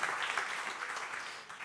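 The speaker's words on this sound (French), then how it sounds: "On peut l'applaudir, hein, parce que c'était très efficace." An audience at a conference on affordable housing claps together in sustained, even applause that fades slightly toward the end, filling the hall with no voices over it.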